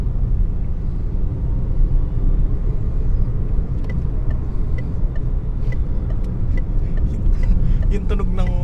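A DFSK electric car drives steadily with a constant low motor rumble and road noise throughout, with faint clicks and a soft whine near the end.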